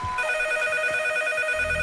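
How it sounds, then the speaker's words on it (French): A telephone rings with a steady electronic trill, loud and continuous in a quiet room, on a French television show. "J'entends la sonnerie du téléphone."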